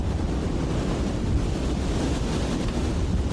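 Strong outdoor wind buffeting the microphone, a steady loud rumbling roar with no pauses and no talk.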